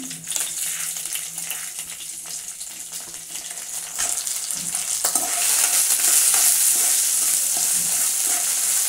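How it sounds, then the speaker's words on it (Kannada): Coriander seeds roast in a hot pan for chicken sambar, sizzling with repeated stirring scrapes. The crackling hiss grows louder and denser in the second half, close up with no voices. "ಈಗ 1 ನಿಮಿಷ ಹುರ್ಕೊಬೇಕು ಧನಿಯಾನ"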